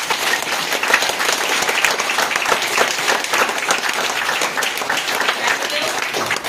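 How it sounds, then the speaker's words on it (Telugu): An audience at a business meeting claps loudly and steadily for several seconds, a dense wash of applause filling the room with no break. "మరి మన అందరికి కూడా ఉంటే ఒకసారి గట్టి క్లాప్స్ కొట్టా"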